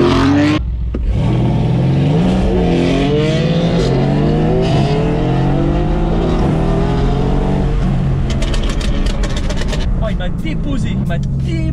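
A Mercedes C63S AMG and a BMW M4 Competition launching in a drag race, loud sustained engine roar rising through the gears with rapid revving pitch sweeps, close and steady, with some ticking near the end.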